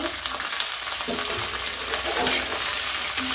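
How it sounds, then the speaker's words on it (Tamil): Bitter gourd pieces with rock salt sauté in hot oil in a pan, giving a steady close sizzle with a few stirring scrapes and clatters. "இது நல்லா எண்ணெயிலே வதங்கட்டுங்க."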